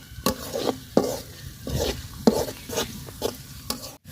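Oil and whole spices (cardamom, cinnamon, bay leaf) go into a pot for beef haleem, with a brisk stirring and scraping rhythm over a soft sizzle, several strokes repeating close by without any talk.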